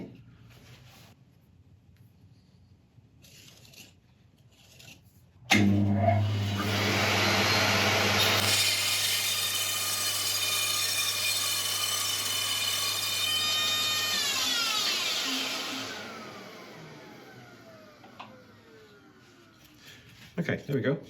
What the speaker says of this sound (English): So I'm going to take it over to the bandsaw, cut it off about there